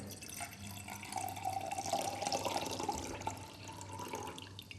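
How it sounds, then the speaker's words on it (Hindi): Water poured from a mug into a laboratory flask, a continuous splashing trickle with gurgling bubbles, close and moderately loud, steady throughout with no talking. "इस फ्लास्क में उड़ेल रहे हैं।"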